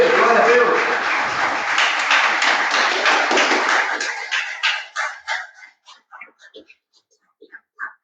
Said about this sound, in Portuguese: Vamos aplaudir o Senhor Jesus bem forte, mais forte para Ele